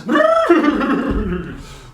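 A horse neighs loudly and close by, one long whinny that falls away over about two seconds.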